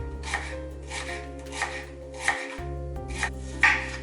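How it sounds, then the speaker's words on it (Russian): A knife slices a red onion into strips on a cutting board, five distinct chops at a steady rhythm over a low background hum, close and fairly quiet, no speech. "Лук нарезаю полосками."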